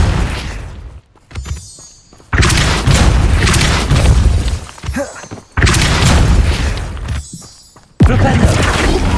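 Depulso force spell cast in Hogwarts Legacy, heard as several loud booming blasts that hit in separate bursts with short gaps between them.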